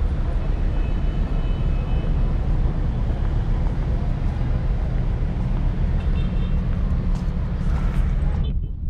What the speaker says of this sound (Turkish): Bak oradan da tramvay geçiyor.